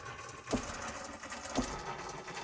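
Crinkling plastic bags from a Noise Verb sound library sample: a dense, steady rustle with two sharper crackling bursts about a second apart, heard alone.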